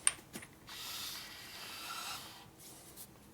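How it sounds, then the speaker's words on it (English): A 1961 Harley-Davidson Sportster motor is turned over backwards by hand, giving faint mechanical ratcheting and a soft rubbing whir with a few clicks and creaks, close and quiet with no talking. "So we're going to turn the motor over backwards."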